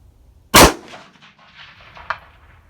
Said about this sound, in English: we're going to shoot a couple of shots here